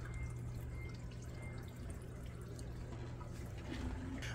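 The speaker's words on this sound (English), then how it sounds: "Now I am going to pour it into this bowl." Water mixed with liquid nutrients is poured into a bowl for a hydroponic seed starting tray, a faint, steady trickle and splash with light drips, heard alone and close.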